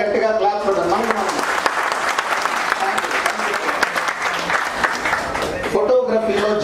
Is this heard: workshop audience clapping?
yes